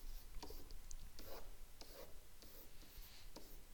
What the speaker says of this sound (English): Let's go ahead and sketch.